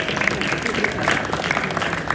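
Audience applause at a motivational speech event, steady dense clapping filling the whole moment at moderate loudness, with a voice faintly mixed underneath.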